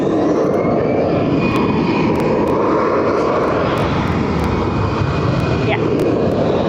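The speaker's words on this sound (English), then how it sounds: "Off it goes, easyJet." An easyJet airliner departs from Barcelona airport, its engines giving a loud, steady jet roar that holds for the whole stretch, with faint voices talking underneath.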